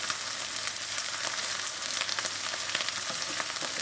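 Oyster mushrooms crisping in a hot pan of oil, a dense steady sizzle and spatter that runs unbroken throughout, close and fairly loud with no talking.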